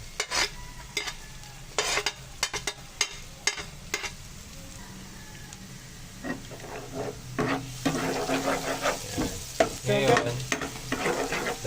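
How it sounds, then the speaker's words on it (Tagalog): Sharp spatula scrapes and taps against a pan come first, then onion hits the hot pan and a louder crackling sauté builds and continues with stirring. No one speaks. "Tapos pwede na natin ilagay itong onion"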